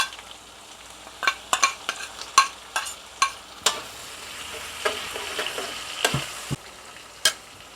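Shrimp dropped into a hot pan for pineapple chicken, giving a steady sizzle with repeated sharp clacks and scrapes of a spatula stirring, close and fairly loud with no voices.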